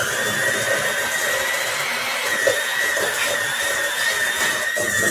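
An electric mixer runs steadily through cookie dough with a constant motor whine. The sound is close and continuous, with no talking.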